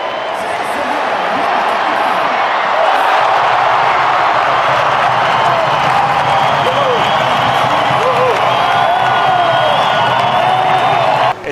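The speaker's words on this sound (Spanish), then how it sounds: "Aplausos para el mexicano, abucheos para Trevelyn Quinn, el americano del Magic." Loud, dense arena crowd at an NBA game in Mexico fills the space with sustained applause mixed with booing and scattered whoops, a steady roar that holds throughout.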